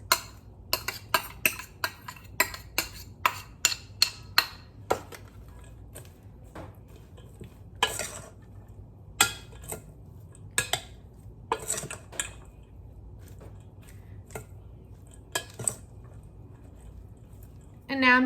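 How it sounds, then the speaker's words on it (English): A spoon clinks and scrapes against a bowl while spinach and chopped onions are stirred into an enchilada filling, irregular sharp taps and soft squishing strokes, close and clear, in a quiet kitchen. "then I'm going to mix in my spinach. And then I'm also going to mix in my chopped onions."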